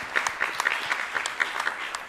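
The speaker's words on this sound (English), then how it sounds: "And a round of applause for our panelists." Audience applause for panelists at a community launch meeting at a health equity center, a steady patter of many clapping hands at moderate volume with no talk over it.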